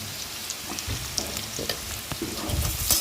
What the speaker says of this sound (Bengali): এরপরে ভালো করে আলুগুলোকে লাল লাল করে যতক্ষণ ভাজা না হচ্ছে ততক্ষণ অল্প আছে আস্তে আস্তে ভেজে নেব।